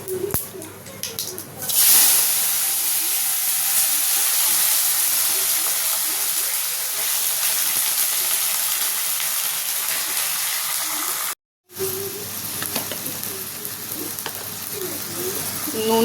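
Bay leaf and five-spice seeds sizzle in hot oil in a pan, a steady close frying hiss that swells after a brief start and continues unbroken, cutting out for an instant before resuming.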